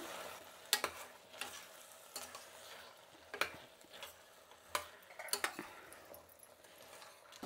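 Potatoes and peeled field beans fry in a pan for a Nellore rice pulao, with a soft sizzle under intermittent scraping and clinking as a spoon stirs them close by.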